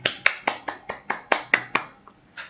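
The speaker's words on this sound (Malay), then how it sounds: "tepuk tangan untuk Wani dulu" A classroom of students claps for a classmate, about ten sharp, close hand claps in an uneven, sparse rhythm that trails off, with a short pause before one last clap.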